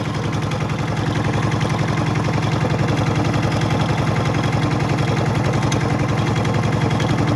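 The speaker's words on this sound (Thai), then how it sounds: "วันนี้เอารถไถมา หว่านปุ๋ยนะครับ" Small walk-behind farm tractor engine running steadily on a rural concrete track in northern Thailand, a loud close chugging drone with a fast even pulse that carries on without a break and with no voices over it.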